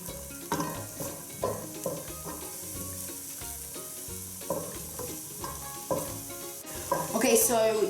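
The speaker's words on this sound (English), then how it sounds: "put some olive oil, equivalent to 2 tablespoons, to saute our onions" Onions sauté in about two tablespoons of olive oil for saffron risotto, with a steady soft sizzle under repeated scrapes and knocks of a utensil against the pan, close and fairly quiet, growing busier at the end.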